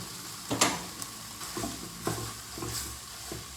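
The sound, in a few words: pad Thai noodles frying with egg in pan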